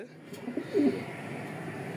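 Racing pigeons, including hens, cooing softly nearby in a loft, a few low burbling coos over quiet background.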